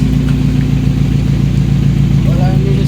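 An engine on a racing rig idles steadily with a loud, even low rumble, and talk runs over it.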